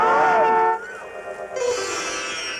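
A vehicle horn blares in a film scene, a loud sustained tonal blast that cuts off, followed by a second, higher horn tone that holds steadily to the end.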